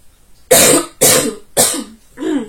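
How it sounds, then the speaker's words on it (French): Four loud, harsh coughs in a steady sequence, close up, the last one a bit softer. "Encore toussé"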